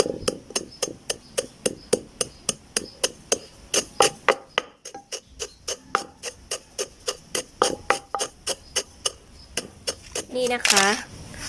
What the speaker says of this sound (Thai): โขกให้ละเอียดจนพอใจเลยนะคะเพื่อนๆ